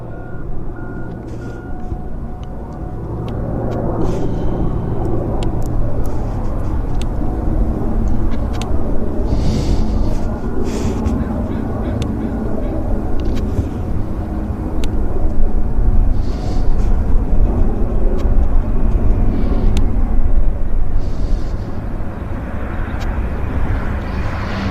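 Airliner on a flight from San Diego to Vancouver, heard at Vancouver Airport as a steady, loud broadband engine roar sustained throughout, with no other clear sounds over it.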